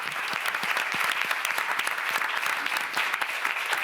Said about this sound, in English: Et ils méritent vos applaudissements